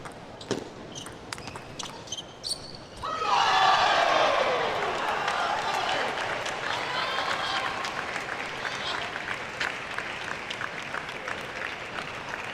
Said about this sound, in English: Bit of applause here for Wang